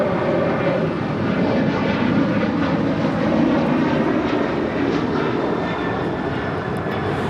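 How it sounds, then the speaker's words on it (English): Delta Airlines Airbus A330neo jet departing LAX, a loud, steady engine roar that fills the whole stretch without letting up, with no voices over it. "That is Delta Airlines Flight 7 departing to Tokyo Haneda on the A330 Neo."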